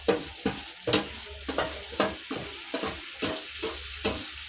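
Eggplant with spices is stirred and fried in a pan, with a steady sizzle and regular scraping strokes of a spoon roughly every half second, close and clear with no talking.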